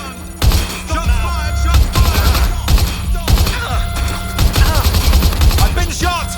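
Gunfire crackles in the Watch Dogs Legion video game: loud repeated volleys of shots arrive in several bursts over a low rumbling background, with short vocal exclamations between them.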